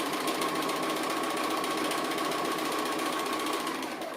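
A sewing machine runs steadily while stitching an applique design, its needle hammering in a fast, even mechanical chatter with a faint motor hum, close and continuous, with no pauses or voices.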